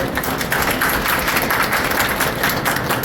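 Audience at a teachers' workshop claps together, a dense, steady burst of applause that fills the room at an even level for about three seconds with no voices over it.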